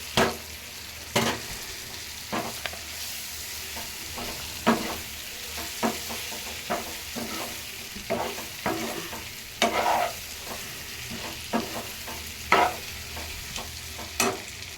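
Boiled eggs frying in a pan of masala for egg curry: a steady sizzle under repeated sharp scrapes and clinks of a spatula stirring at an irregular rhythm, close and fairly loud.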